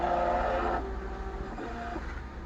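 A Titan 4 Pro label printer runs with a steady mechanical whir that drops slightly in level partway through, continuing as a low hum with faint clicks; nobody speaks.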